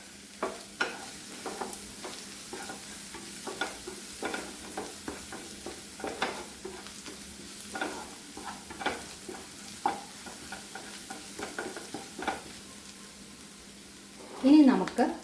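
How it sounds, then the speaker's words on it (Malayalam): Beans being stirred as they fry in a pan over a medium flame for a Kerala chena-vanpayar stir-fry, with soft sizzling and repeated spoon scrapes in an uneven rhythm, close by, and a voice talking over it. "മീഡിയം ഫ്ലെയിമിലേക്കാക്കി ഒന്ന് ഇളക്കി കൊടുത്തോണ്ടിരിക്കണം."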